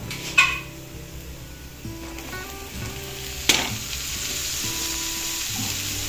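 Five medium onions, sliced lengthwise, go into hot oil with a sudden splash, followed by a steady close sizzle and a few clinks and stirs, no speech heard.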